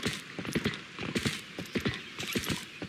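Hooves of the horse Epona clip-clop in The Legend of Zelda: Twilight Princess HD, a steady rhythmic trot of close, crisp hoof beats over a busy game soundscape with no talking.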